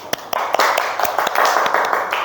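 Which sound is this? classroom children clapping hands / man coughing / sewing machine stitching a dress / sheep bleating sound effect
classroom children clapping hands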